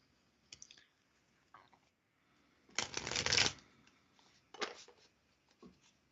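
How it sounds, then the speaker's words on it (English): A deck of tarot cards being shuffled, with scattered soft clicks and light riffles, a louder riffle burst in the middle and a few short flicks after, close and quiet with no talking. "I'd love to pull a card for you, Joy."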